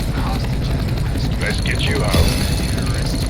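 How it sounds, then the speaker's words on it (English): Rescue helicopter at the Phoenix Compound in Counter-Strike: Global Offensive, Operation Wildfire, a steady rotor drone and mechanical rumble under loud close talk from players. "There's the chopper."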